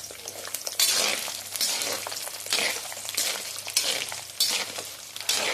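Dried red chillies fry in a pan for garlic chutney, giving a steady close sizzle broken by repeated stirring scrapes and light clinks, with no voices.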